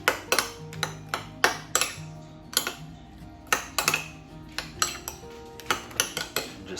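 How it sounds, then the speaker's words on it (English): A spoon clinks against a bowl while stirring lime juice, sharp metallic taps and scrapes repeating in an uneven rhythm, close and clear with no talking. "And then mix it up with a spoon."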